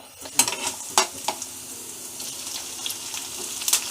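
Chopped onion and tomato sizzling in a hot pan on a home stove, a soft continuous frying hiss punctuated by a few sharp clinks of a spoon stirring, with no talk.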